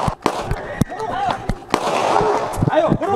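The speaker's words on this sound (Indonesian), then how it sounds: "polisi melepaskan tembakan peringatan saat meringkus pelaku curanmor di Bangkalan, Jawa Timur" Sharp, loud warning shots fired by police chasing a repeat motorcycle-theft suspect in Bangkalan, East Java; several cracks ring out, with shouting voices and crowd commotion around them.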